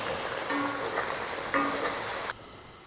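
Potatoes and carrots frying in cooking oil until they start to brown: a close, steady hiss and sizzle, swelling twice as the pieces are stirred, then cutting off abruptly near the end.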